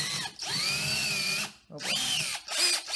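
A power drill bores a hole in wood for a homemade wooden mace, its motor whining in loud bursts that are broken by short pauses and changes in speed.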